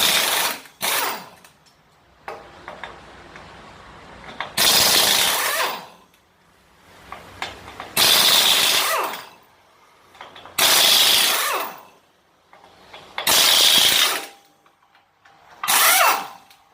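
A ratchet wrench fitted with a 13/16 socket spins trailer hub nuts loose in a series of about six separate bursts of close, loud mechanical whirring, with quiet gaps between them.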